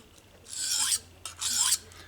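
A knife blade rasps across an Atoma 400 grit diamond stone in two distinct strokes, each a bright gritty scrape of about half a second, close and clear against quiet, with no talking.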